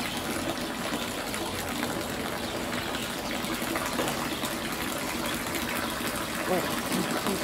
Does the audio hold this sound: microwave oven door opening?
no